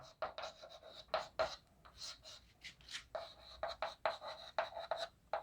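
Chalk or marker writing on a board, soft repeated scratchy strokes in an irregular rhythm, faint and close with no talk over them.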